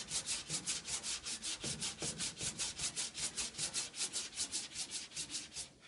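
A long sanding block is pushed by hand across a truck cab corner in steady, rhythmic back-and-forth scraping strokes, about four per second, close and even throughout with no talking.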